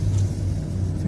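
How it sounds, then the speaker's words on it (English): A big tractor engine used for snow clearing rumbles steadily and close, a dense low idle-like drone with no pauses throughout. "I'm going to get the big tractor going and just open up some of the parking lots in between the cars."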